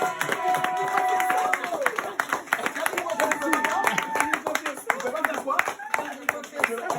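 A church congregation claps rhythmically for Jesus, the sharp, regular claps running under voices and sustained musical tones.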